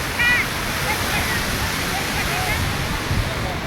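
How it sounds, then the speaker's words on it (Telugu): Sea waves wash steadily onto a beach, a continuous broadband surf rush that stays fairly loud and close through the whole stretch, with a brief voice or bird-like chirp near the start. "This is the beach."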